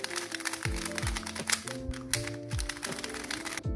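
A YJ Yusheng Little Magic speed cube, freshly unwrapped from plastic, turned rapidly by hand, giving a quick run of close, crisp plastic clicks and clacks with tonal music running underneath.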